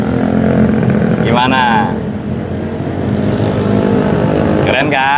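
A motorcycle engine with an aftermarket exhaust rumbles steadily under a voice, with a couple of sharp revs rising and falling.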